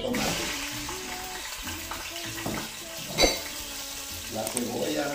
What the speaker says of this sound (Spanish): ya que está caliente el aceite, se le echa el tomate.